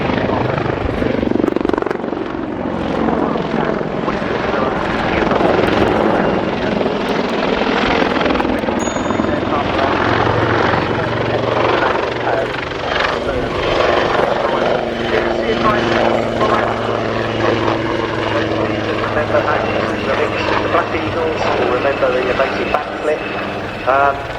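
Army Wildcat helicopter flying a display manoeuvre at Cosford Air Show, its loud rotor thrum and turbine whine sustained and close throughout, shifting in pitch as it turns, with crowd noise beneath.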